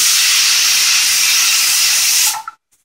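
A pressure cooker cooking sambar vegetables blasts a loud, steady steam hiss continuously for over two seconds, then cuts off abruptly into near silence with a brief sputter.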